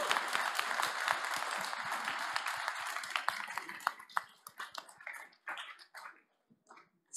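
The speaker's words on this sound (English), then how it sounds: "I think this is worth a round of applause" Audience applause at an awards contest, a dense patter of many hands clapping steadily, then thinning out into scattered individual claps before fading.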